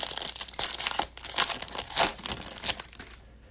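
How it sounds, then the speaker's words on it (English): A 2021 baseball card slides into a plastic sleeve with close, crinkly rustling and scraping in uneven bursts that fade toward the end. "Going to get Robert into a sleeve."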